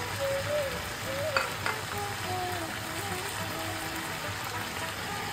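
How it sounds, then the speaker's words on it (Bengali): Green peas go into a wok of cooked mixed vegetables with beetroot and carrot, producing a soft, steady sizzle and bubbling with a couple of faint stirring clinks. Quieter voices can be heard faintly in the background. "এবার আমি কিছু কড়াইশুঁটি দিয়ে দিচ্ছি।"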